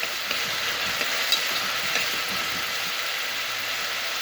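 Ginger, garlic and spices fry in a pan for rice with chicken, giving a steady, close hiss of sizzling oil that holds even throughout, with faint stirring knocks underneath.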